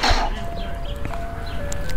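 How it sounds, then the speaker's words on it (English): An ice cream truck's jingle plays in a steady, sustained melody on a street in Hamtramck, fairly close and clear, with faint background noise and no talking. "Oh, there's an ice cream truck here"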